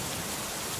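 Steady, soft rainfall forms a dense, even hiss with no distinct drops or thunder, continuous through the short moment.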